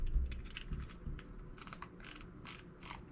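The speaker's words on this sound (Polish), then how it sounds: "wydaje taki piękny dźwięk klikania" A mechanical ratchet clicks in quick bursts as the spring-loaded winding wheel of an airsoft hi-cap magazine is wound, the clicks sharp, close and separated by brief pauses.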